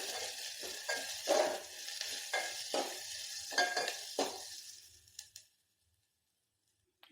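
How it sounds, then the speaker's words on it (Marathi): Fresh and dried grated coconut roasting in a pan for misal, a soft sizzle with repeated stirring scrapes and clinks of a spoon against the pan that fade out into silence near the end. "याच्यानंतर मी टाकणार आहे याच्यात 1 चमचा सुकं खोबरं. हे चांगलं भाजून घ्यायचं आहे आपल्याला."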